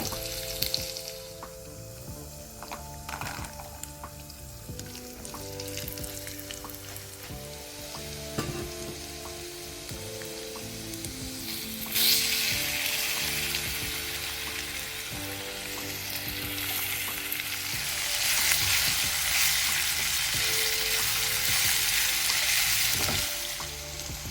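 Bananas and raisins sautéing in a pan, a steady close sizzle with occasional stirring scrapes, the frying swelling louder and hissier partway through, with no voices.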